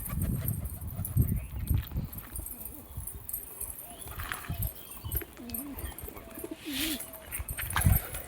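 Pigeons coo softly in a courtyard as they peck at scattered wheat, faint warbling calls rising over low background noise and occasional clatter, with a few quiet bursts of voice nearby.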